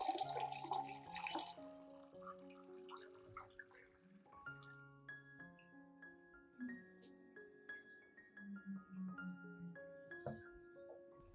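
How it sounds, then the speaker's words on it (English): Clean water pours briefly into a disinfecting solution to dilute it, a short splashy rush at the start that gives way to steady background music. "Add 1 liter of clean water to dilute the solution."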